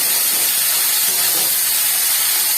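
Salted prawns hit a little hot oil in a pan for a snake gourd dish, giving a loud, steady, close sizzle and hiss that holds evenly throughout with no talking.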